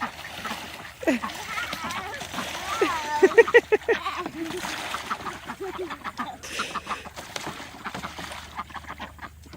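Water splashing and sloshing as birds move about, with a few quacks and people talking over it throughout, close by.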